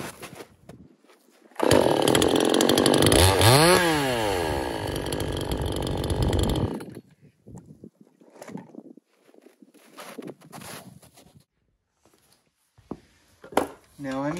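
A Radley 52cc chainsaw with a modified muffler and semi-chisel chain revs loudly for about five seconds, its pitch sweeping up and down, then cuts out, leaving scattered clatter and a voice speaking.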